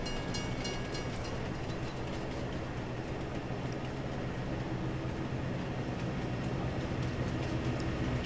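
A train in the Vintage Survival video game rolls past with a steady, dense rumble and rail clatter, holding loud and even for the whole stretch with no talk.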